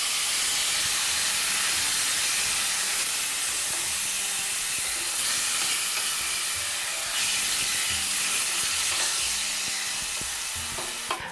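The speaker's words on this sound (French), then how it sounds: "Là, nous laissons les cuire pendant quelques minutes, bien mijoter, nos pommes d'amour écrasées." Crushed tomatoes simmering in a pot for Kari Margoz Farsi, a steady, close hiss and sizzle that runs unbroken throughout with faint bubbling and no talk.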